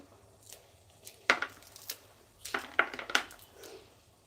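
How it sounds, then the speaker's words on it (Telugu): Corn kernels are pulled off a cob by hand, ready for corn fritters, making scattered crisp snaps and crunchy tearing bursts that come close and clear in irregular clusters with quiet gaps. "నేనైతే కంకిని పోల్చుకుంటున్నాను"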